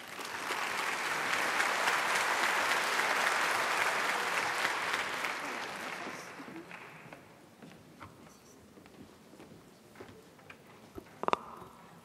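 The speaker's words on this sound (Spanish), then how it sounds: "les pido un fuerte aplauso para ellos" Applause for the speakers at a scientific conference on metabolic syndrome and gestational diabetes rings out as a full, sustained wash of clapping from a large audience, gradually thinning to scattered claps before fading.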